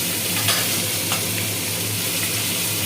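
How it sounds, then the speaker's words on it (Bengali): Steady, close sizzling of chopped tomatoes frying in a hot pan, with a few light scrapes of stirring. No voices. "টমেটোটা ভালো করে ভেজে দিই"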